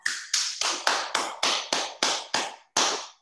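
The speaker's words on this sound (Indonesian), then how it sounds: "Ayo kita tepuk tangan semuanya karena sudah berhasil melakukan eksperimen dengan bola pingpong" Nine or ten sharp hand claps in a steady, even rhythm, close and crisp, each decaying quickly, with a slightly longer gap before the last one. The clapping is from children, and no one speaks.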